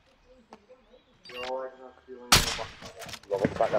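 Gunfire in a multiplayer shooter game: a sudden loud burst of shots in the latter half, preceded by quieter clicks and tones, with voices talking over it.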